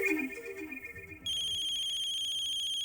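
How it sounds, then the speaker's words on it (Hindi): A mobile phone ringtone plays loud and close, a tonal electronic melody that starts partway in after some background music and then holds steady through the rest. "कमिश्नर साहब का फोन।"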